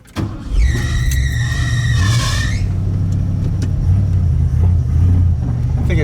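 A carbureted Bullnose Ford truck engine from a junkyard, newly swapped from fuel injection and running a little touchy, rumbles close and loud, swelling in a quick rev early on before settling into a steady, uneven idle.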